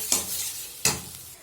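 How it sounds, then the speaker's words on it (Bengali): Green pea paste frying in a pan for kachori filling, two distinct scraping stirs a moment apart over a soft continuous sizzle, close and moderately loud with no talking. "এবার মটরশুঁটির পেস্টটাকে ভালো করে কিন্তু একদম কষে নিতে হবে।"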